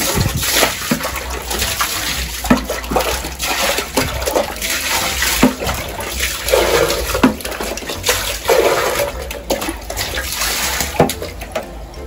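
Water splashes and sloshes continuously across a hard bathroom surface during cleaning, with scattered slaps and drips, fairly close and loud.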